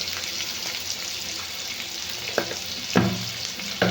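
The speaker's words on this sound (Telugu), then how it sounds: "ఇప్పుడు బాగా ఫ్రై చేసుకోవాలి. కొంచెం సాల్ట్ వేసుకోవాలి, త్వరగా ఫ్రై అవుతుంది." Egg fried rice fries in a pan with salt added, giving a continuous close sizzle and a few sharp stirring knocks near the end, with no talk.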